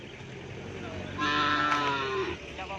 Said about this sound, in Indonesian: ini sapi dari Batus, sapi dari Ketapang juga